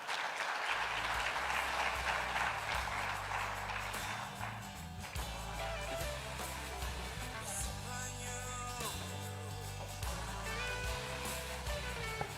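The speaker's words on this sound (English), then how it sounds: "Another round of applause for Martin." An audience at a business forum applauds steadily throughout, a dense sustained clapping that continues at a fairly even level, with music or background sound mixed underneath.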